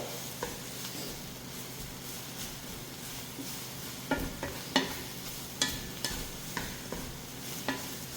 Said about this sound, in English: I'm going to add the bok choy